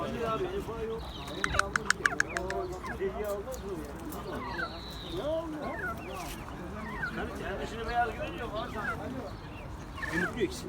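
Hens cluck and a Brahma rooster calls among a noisy crowd at the busy Edirnekapı poultry and bird market in Istanbul, with dogs barking and people talking in the background.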